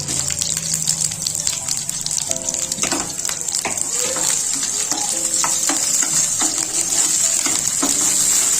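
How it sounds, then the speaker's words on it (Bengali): Sliced onion sizzling in hot oil with bay leaf and nigella seeds, a steady loud crackling hiss broken by repeated scraping knocks of a spatula stirring the pan, close up. "তো এটা একটু নাড়িয়ে নিয়ে এর মধ্যে আমি যেই একটা পেঁয়াজ কেটে রেখেছিলাম দিয়ে দেবো।"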